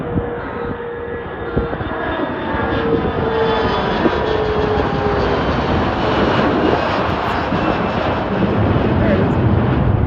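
An airplane takes off at Cleveland airport, its engines a loud, continuous roar that holds steady and close across the whole ten seconds, with talk partly buried beneath it.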